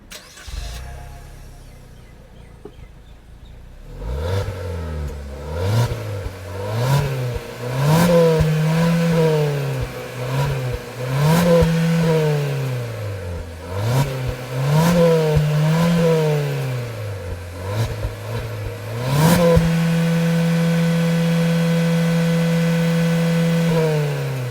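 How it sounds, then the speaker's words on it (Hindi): A 2025 Maruti Suzuki Victoris SUV engine cranks and fires after a few seconds of quiet, then rises through a series of repeated revs before settling into a steady, higher hum. The sound is close, loud and clear, with no talking. "ये है exhaust note of the Maruti Suzuki victorious."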